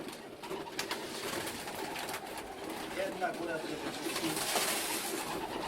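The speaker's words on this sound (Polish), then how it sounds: "Mamy akurat teraz karmienie tych gołębi." Many racing pigeons coo and flutter together at a feeding in a dense, continuous wash of bird noise, with broadband rustling throughout.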